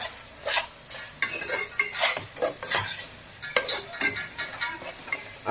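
Ingredients for prawn biryani sautéing in a pot, a close sizzle punctuated by rapid, rhythmic spoon scrapes and clinks against the metal, with no voices.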